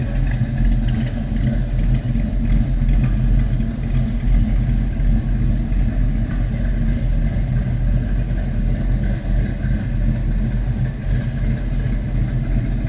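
A 1969 Chevrolet C10 pickup with a 350 small-block V8 idles, a steady, deep, rumbling burble with a slightly uneven lope, close and constant throughout with no talking.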